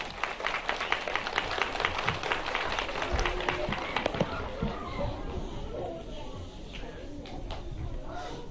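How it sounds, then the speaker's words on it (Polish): Audience at a primary school children's theatre performance of Snow White claps loudly for several seconds, the applause thinning out into scattered claps, with children's voices and movement mixed in. "Poproszę o brawa, aby dzieci opanowały temat."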